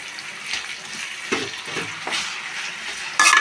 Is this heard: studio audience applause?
no